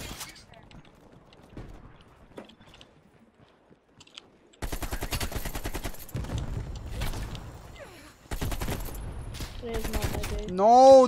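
Bursts of shotgun fire in Call of Duty: Cold War multiplayer, loud blasts in clusters after a quieter stretch, with a voice talking over the gunfire.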